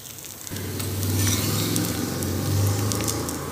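Rava dosa batter cooking on a hot pan gives a loud, continuous close sizzle that starts abruptly after a brief quiet moment and holds steady to the end, with no talking.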